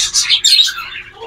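Pet diamond doves and budgie-parakeet hybrid birds chirping up close, a quick burst of bright overlapping tweets and squeaky calls with no voices.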